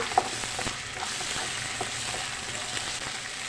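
Fresh ginger paste frying in a pan for mutton gravy curry, a steady close sizzle with occasional soft stirring clicks, no talking.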